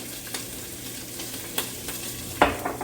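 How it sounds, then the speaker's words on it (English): Spices fry in a pan, mixed masala powder, turmeric and cumin, giving a soft steady sizzle with a few light stirring clicks and a sharper scrape near the end. "I'm going to let the spices fry off for a minute"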